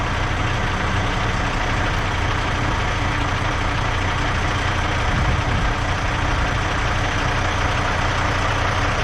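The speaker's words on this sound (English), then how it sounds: "they'll keep the cars just idling, polluting the earth" A car engine idling on a street in Las Vegas, a dense continuous rumble at a steady loud level with no variation in pace and no voices.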